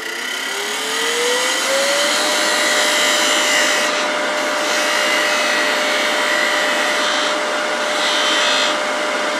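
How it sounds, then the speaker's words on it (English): A wood lathe spins a piece being refined with a larger spindle gouge, giving a loud, steady whirring rush with a rising motor whine at the start and soft swells of tool cutting noise. "now I'm going to just finish refining, go back to that little larger spindle gouge"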